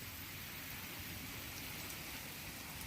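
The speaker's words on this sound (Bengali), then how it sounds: "প্রচুর বৃষ্টি হচ্ছে" Heavy rain pouring steadily outdoors in Bangladesh, a dense, constant wash of noise with no breaks, faint and distant, no talking.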